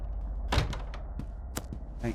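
A door shuts in The Gretlow Tapes horror game, with a dull thump and a few knocking clunks over a steady low background hum.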